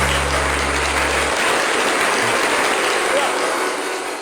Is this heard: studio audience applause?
yes